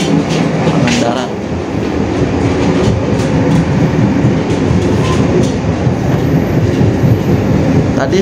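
Steady rumble and rattle inside a moving Argo Parahyangan passenger train, with loud continuous rolling noise, rhythmic clacking of the wheels and faint murmuring voices of passengers.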